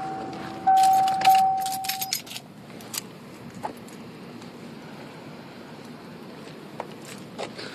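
Keys jangle loudly up close for about two seconds beside a 5.0 V8 car during an oil change, then the car is switched off and a quiet, steady background remains with a few faint clicks.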